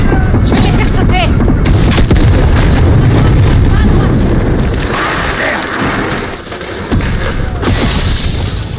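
Explosions and heavy gunfire in Call of Duty Modern Warfare, with loud repeated booms and crackling blasts over a dense battle din, easing slightly midway before surging again.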